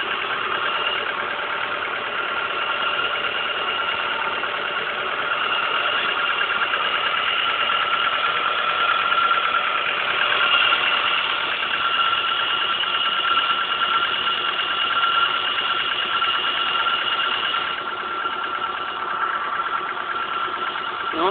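A crashed Ford Mondeo's car engine runs steadily near at hand for the whole stretch, a busy mechanical drone with a faint knocking texture and no clear revving swell.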